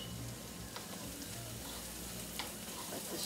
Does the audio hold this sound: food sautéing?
yes